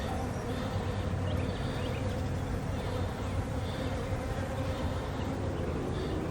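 Honey bees around a hive during a three-way colony split: a soft, continuous buzzing hum, faint and steady throughout, with no talking.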